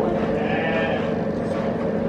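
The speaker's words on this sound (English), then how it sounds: "There's another goat right beside him." A single drawn-out bleat from a goat nearby, brief and nasal, over a low background hum.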